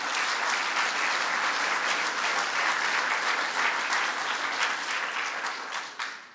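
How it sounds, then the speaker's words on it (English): Audience applause at a governor's press announcement, a sustained, even roar of many hands clapping in a room that fades away at the end. "So let's give Kathy Wild a round of applause"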